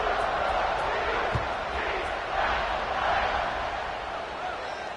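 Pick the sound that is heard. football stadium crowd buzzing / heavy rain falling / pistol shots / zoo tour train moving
football stadium crowd buzzing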